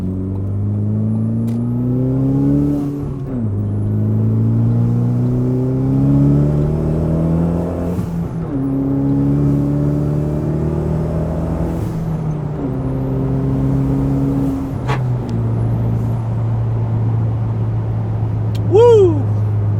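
Ford Focus ST engine pulling hard under heavy acceleration, revs climbing repeatedly through several gear changes with brief dips between each shift, loud and steady from inside the car.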